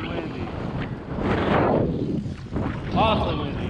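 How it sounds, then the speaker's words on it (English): Strong wind buffets a small boat with a trolling motor at sea off the coast between Santa Cruz and Davenport, California. Loud, rumbling gusts roar across the microphone in surges, close and constant throughout. "Awfully windy."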